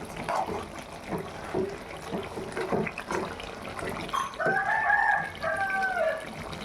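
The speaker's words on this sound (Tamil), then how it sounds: "சவுண்டு கேட்குதுங்களா சேவல் போகிறது" A rooster crows loudly and clearly in the latter half, following clucking and scattered clatter in a noisy outdoor setting.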